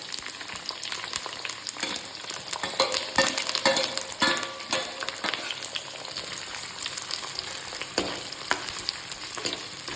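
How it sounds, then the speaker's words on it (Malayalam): Ginger, garlic and chili frying in a pan, for a fish head curry, sizzle and crackle steadily while being stirred, with a close, continuous hiss and the scrape of the spoon, no talking. "ഇഞ്ചി, വെളുത്തുള്ളി, മുളകൊക്കെ വഴന്നു വന്നിട്ടുണ്ട്."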